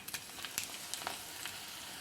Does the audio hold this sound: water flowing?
no